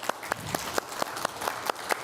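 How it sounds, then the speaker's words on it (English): Sparse audience applause at an in-person Medal of Honor history event, a handful of distinct claps in an uneven rhythm, fairly faint and from a small group. "I'm going to give you a round of applause"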